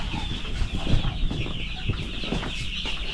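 Eight-day-old chicks being vaccinated, a flock cheeping in a constant high chorus with overlapping calls, plus soft thumps and rustling of movement close by.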